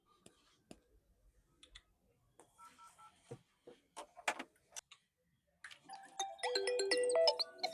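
A mobile phone being dialed indoors in a rural comedy short film: a few scattered faint key clicks, then a quick run of loud, overlapping dialing tones at the end.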